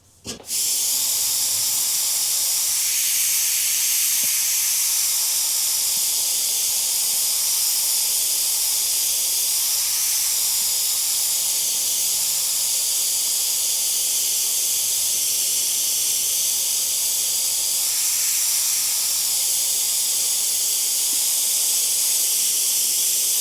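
A steady, continuous airbrush hiss of spraying paint runs unbroken and close, starting abruptly and holding an even level throughout.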